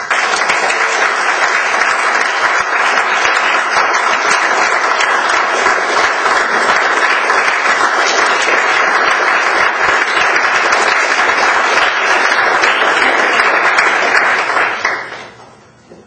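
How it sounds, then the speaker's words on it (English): An audience applauds a new Eagle Scout at a Court of Honor ceremony, loud sustained clapping that fills the room continuously before fading out at the end. "Let's now give the new Eagle Scout one more round of applause."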